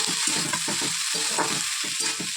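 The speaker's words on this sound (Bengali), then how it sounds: "এই যে ভাজা আছে এটা আর একটু ভাজা করবো" A spice mix of sesame, mustard and poppy seeds sizzles in a pan, crackling steadily while being stirred in rhythmic scraping strokes, close up with no talking.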